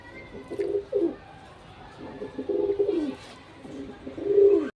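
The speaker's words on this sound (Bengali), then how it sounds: "আজকের কবুতর কোনোটা কম না," Pigeons coo in a loft or cage, several low, rolling coos repeating at intervals, close and clear, with a louder burst at the end.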